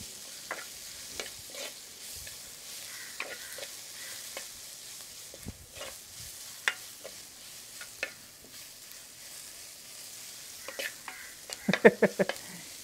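Onion, garlic, fennel, cumin, fenugreek, cloves, cardamom and green chili fry quietly in a pot for a Jaffna-style chicken curry, with a soft sizzle and scattered spoon scrapes and taps, busier toward the end.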